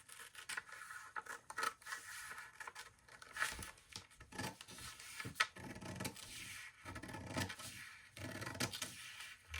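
Scissors cutting through pants fabric during a clothing alteration, a series of quiet rasping snips and rubbing strokes close by, irregular and soft.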